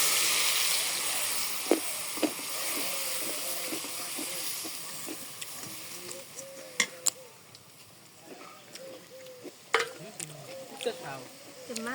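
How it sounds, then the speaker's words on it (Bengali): Spices sizzling in a hot pan as food is sautéed with salt and chili, a steady hiss with occasional sharp clicks of stirring, fading slightly over time while a voice speaks intermittently. "বাগারে সে নুন মরিচ দিয়ে কষে নিই"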